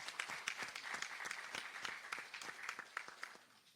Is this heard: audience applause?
yes